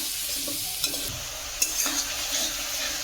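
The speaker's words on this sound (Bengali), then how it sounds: "এটাকে ভালো করে টমেটোর সঙ্গে মিশিয়ে নেব।" Spoon stirring turmeric and chilli powder into tomatoes in a sizzling pan, a steady frying hiss with a few soft scrapes and clicks of the utensil close up.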